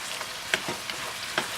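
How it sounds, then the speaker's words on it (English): Chicken and chopped macadamia nuts stir-frying for paleo pad thai, giving a steady soft sizzle with a few light scrapes and stirs of the pan, close and alone. "you're going to continue to stir fry this for 2 minutes while the macadamia nuts are in there"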